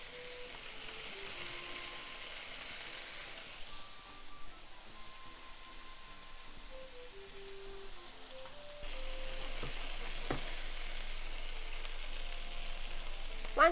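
Chicken pieces frying skin side down in a pan, a soft, steady sizzle that grows slightly louder partway through, with faint tonal background sounds and no one talking.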